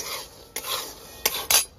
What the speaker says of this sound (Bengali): আমি বাদামটা নুন দিয়ে ভেজে নিচ্ছি